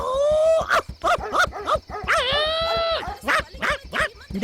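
Stray dogs bark and yip in a rapid, loud sequence close by, with a drawn-out whining howl in the middle, over a steady low hum.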